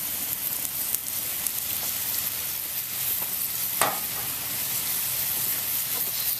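Bacon frying in a very hot pan set over a Swedish fire torch outdoors, a steady hissing sizzle with one sharp pop partway through, no voices.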